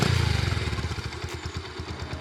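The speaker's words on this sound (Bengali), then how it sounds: "এটা হচ্ছে আপনার নর্মাল সাইলেন্সারের সাউন্ড," A motorcycle idling with its normal stock silencer exhaust, giving a steady, close, rhythmic low putter that eases slightly in loudness.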